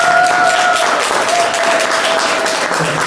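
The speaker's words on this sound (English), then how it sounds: "Please, let's give her a round of applause." A room of people applauds warmly, with dense steady clapping that stays loud and close throughout.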